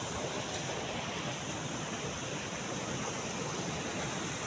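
Floodwater rushing steadily during Odisha monsoon flooding, a dense continuous roar of broadband noise with no breaks, close and fairly loud, with no voices.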